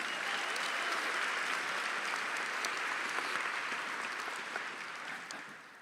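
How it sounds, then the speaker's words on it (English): A commencement audience applauds the faculty in a sustained, dense burst of clapping that fills the room and tapers slightly toward the end, with no talking over it. "Please give them a round of applause."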